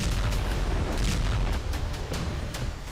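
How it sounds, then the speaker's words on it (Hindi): Loud, continuous rumbling blast noise from a missile attack on the Kerch bridge, a dense roar with repeated sharp bursts and cracks over about three seconds, no voices. "हमले के बाद कर्च ब्रिज पर जोरदार धमाके के साथ बारूदी गुबार उठा।"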